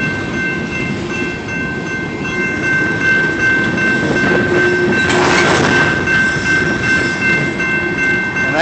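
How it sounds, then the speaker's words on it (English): A train rumbles past close by a crossing, wheels clattering steadily, with a sustained crossing-gate tone ringing over it and a brief swell of noise midway. "Train's going by."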